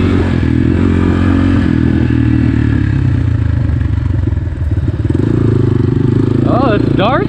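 GPX FSE 250 E dirt bike (2021.5) ridden over wet, muddy ground, its engine droning steadily close up with clattering and splashing, and a rider's voice shouting briefly near the end.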